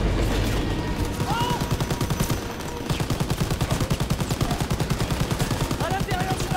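Rapid machine gun fire rattles in the Call of Duty WWII video game during a fight aboard a train. A steady, loud stream of closely spaced shots runs almost continuously, with a brief lull partway through.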